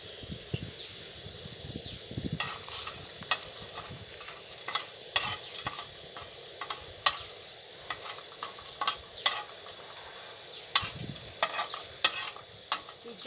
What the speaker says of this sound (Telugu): ఇప్పుడు ఆనియన్ తాలింపు పెట్టుకుందాం.